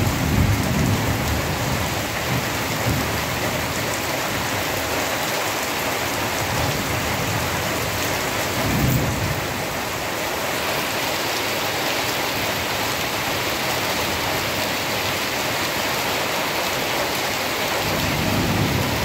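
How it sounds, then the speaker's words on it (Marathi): Heavy monsoon downpour in rural Konkan, Sindhudurg, a dense steady roar of rain hammering surfaces for the whole stretch, with low rumbles of thunder rolling in now and then. "मित्रांनो पाऊस बघा कसो लागता. तो धो धो सगळा भरला."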